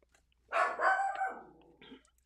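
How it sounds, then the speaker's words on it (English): A single dog gives a short, drawn-out bark or yelp, fairly close, standing out against an otherwise quiet background. "my dogs are barking"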